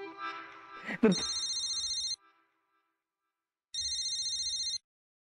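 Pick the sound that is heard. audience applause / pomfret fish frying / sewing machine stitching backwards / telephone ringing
telephone ringing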